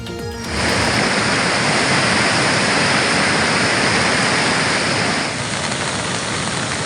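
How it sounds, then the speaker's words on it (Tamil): Flash-flood water rushes through the Kodaikanal hills after heavy rain, a loud, dense, unbroken roar of torrent that swells in within the first half second and holds steady, with no voices. "கொடைக்கானலில் கனமழை பெய்து வருவதால் மலை கிராமங்களில் காட்டாற்று வெள்ளம்"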